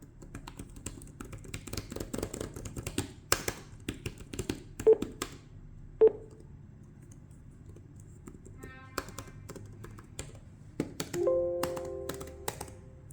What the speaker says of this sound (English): Now, what about the typing sound?